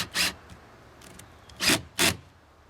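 A cordless drill on a torque setting drives screws to refasten an Ultra seat pedestal base, giving three short, loud raspy whirring bursts separated by brief pauses, close by with no talking.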